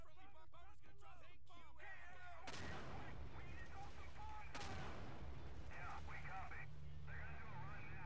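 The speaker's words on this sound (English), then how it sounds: "You got your carpet bombs going." Gunfire and bombing in the World War II shooter Day of Infamy, with rapid bursts early on, then two sharp blasts that leave a rolling rumble, heard at a distance under a continuous low hum.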